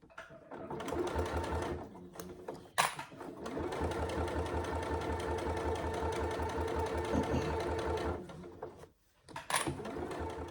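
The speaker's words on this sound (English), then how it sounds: "So I've top stitched all the way around the strap" A sewing machine top stitches around a fabric bag strap, a steady rapid mechanical whir with rhythmic needle chatter running for several seconds, pausing briefly near the end before restarting.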